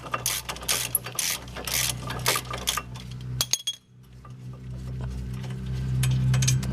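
A ratchet loosening the second 19mm caliper bracket bolt on a 2012 Fiat 500 front brake, close and loud: rapid clicking pawl bursts with metallic clinks, a short pause, then a steadier mechanical whir.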